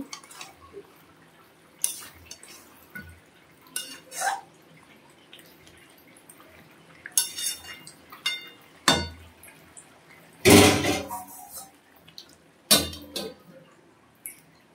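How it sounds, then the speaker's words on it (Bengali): Curry being stirred and sautéed in a pan after the lid comes off, with scattered metallic clinks and scrapes of a utensil against the pan, one louder clatter near the middle, and quiet gaps between. "আমি ঢাকা তুলে দিয়েছি, তুলে দিয়ে এখন একটু কষাবো"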